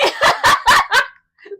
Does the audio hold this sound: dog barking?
yes